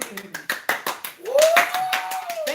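Audience claps at a live studio show in an even rhythm of sharp, close claps, with someone talking over them.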